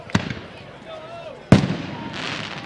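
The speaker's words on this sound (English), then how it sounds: "Been 29 days since we've had fireworks shoot off" Fireworks go off at a college football home game between Tusculum and Newberry, two loud booming bursts about a second and a half apart over crowd ambience, with a whistling rise between them.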